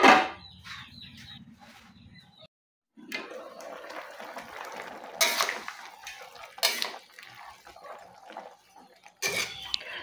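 A lid goes onto a cooking pot of moringa fruit stewing with pork, with sharp metallic clanks and rattles of cookware, close and intermittent, a few isolated knocks, and a brief quiet gap before more clatter.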